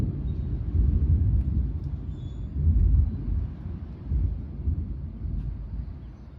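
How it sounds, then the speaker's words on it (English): Thunder rumbles without a break outside during a dark storm, a deep distant roll that swells and eases in waves, with no voices. "all you hear is the rumbling and the rumbling and the rumbling"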